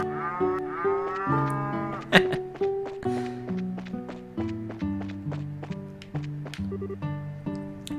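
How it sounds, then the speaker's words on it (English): Cows mooing in the video game Trails in the Sky, a run of repeated drawn-out lows in a steady rhythm over looping game music, fairly loud and close. "Cow."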